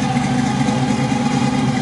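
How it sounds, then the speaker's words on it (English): A 1969 Camaro Z28 clone with a 350 V8, gear drive and a lumpy cam idles close by. It gives a steady, loud, even rumble with no talking. "You can hear the gear drive."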